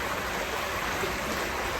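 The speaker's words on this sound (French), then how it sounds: "on a un ruisseau permanent qu'on capte pour l'instant dans les tuyaux, qui ressort sur son cours naturel" Permanent brook running beside a village wash house, a steady dense rush of flowing water, close and constant with no voices.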